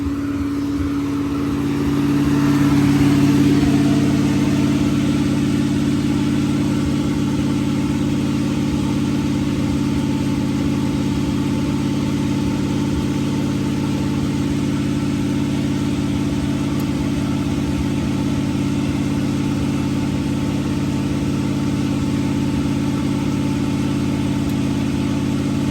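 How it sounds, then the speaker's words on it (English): An irrigation well motor drives a center pivot and runs as a steady, loud engine drone. It swells slightly early on, then holds an even hum with no talk over it. "Well motor is started."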